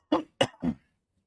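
Three quick, harsh coughs from one person, close and fairly loud, coming in a tight cluster and then falling silent.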